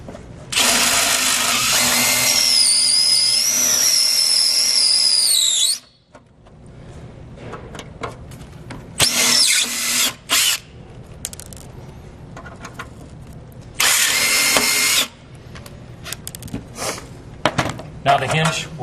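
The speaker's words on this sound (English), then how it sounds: "You do not have to drill all the way through, you just want to rip the top cap off." A high-pitched power drill whines in three separate bursts, the first longest with rising pitch, drilling off the top cap of a hinge during a front door conversion, with quieter handling noises and brief talk between.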